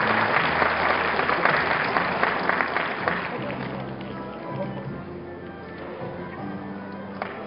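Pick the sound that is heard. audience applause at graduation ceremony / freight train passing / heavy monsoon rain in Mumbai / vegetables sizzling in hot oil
audience applause at graduation ceremony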